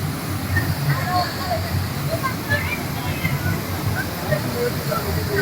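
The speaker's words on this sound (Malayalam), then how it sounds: "വേറെ വെള്ളച്ചാട്ടം" Steady rushing water of a waterfall in Wayanad, near the Banasura dam, a continuous broadband roar with background voices murmuring underneath.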